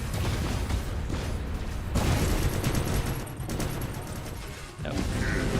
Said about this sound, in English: this build's very strong with these shotguns